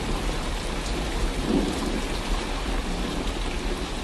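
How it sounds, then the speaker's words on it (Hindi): Heavy rain with hail pouring down during a thunderstorm in a cartoon, a dense, steady roar of falling water with a low rumble underneath and no voices. "कुछ ही देर में बारिश के साथ साथ ओले भी गिरने लगते हैं"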